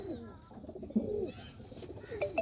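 A racing pigeon coos in a soft, low, rolling series of calls, close by and fairly clear, with a few faint chirps and background noise around it.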